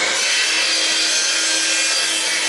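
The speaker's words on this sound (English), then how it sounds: "I gotta come back with a bigger drill." A power drill bores into wood with a continuous, loud, close grinding and rasping noise that holds steady throughout, with no voices.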